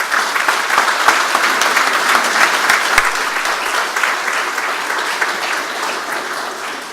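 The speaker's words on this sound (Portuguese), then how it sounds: "eu peço uma calorosa salva de palmas ao nosso ex-governador e também aos nossos ex-vereadores de Cascavel" Dense, steady applause from a seated audience at a formal session opening the Mário Pereira memorial and councillors' gallery in Cascavel, Brazil, sustained at even strength for the whole stretch before fading slightly.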